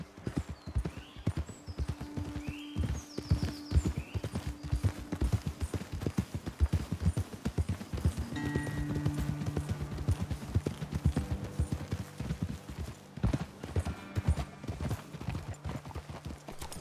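Horses' hooves clip-clopping in a Western open-world setting from Red Dead Redemption 2, a steady rhythmic walking gait with occasional snorts and a whinny, moderately close, with no talk.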